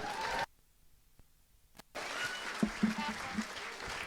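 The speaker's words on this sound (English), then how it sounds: "put your hands together for the groom" Applause from a wedding audience for the groom breaks off abruptly, then resumes after a short pause, mixed with voices and a few louder claps.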